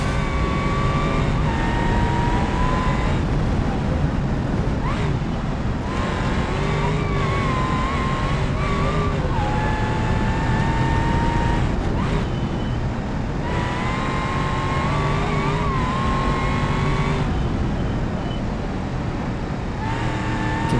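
In BeamNG.drive, a car runs a hot lap of the Nordschleife in a loud, continuous engine drone. The pitch climbs and drops repeatedly as it revs through gears and lifts for corners, with no talk over it.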